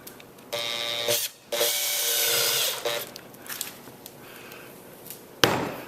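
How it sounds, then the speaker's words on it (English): A power drill with a pilot drill whines and grinds as it bores out a metal bottom plank fastener on a 1959 Chris Craft Sportsman boat, cutting in and out in bursts with a steady high-pitched drone between pauses. "The pilot drill"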